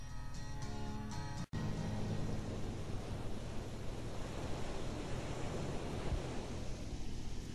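Mediterranean sea waves wash continuously in a soft wind off southern France, a steady broadband roar with a brief sharp cut near the start, and no voices.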